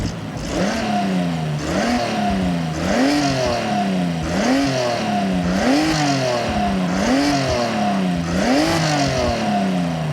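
Car engine in Forza Horizon 6 revving repeatedly while stationary, about seven rhythmic rises and falls in pitch, each a quick climb and drop, loud and close with no talk over it.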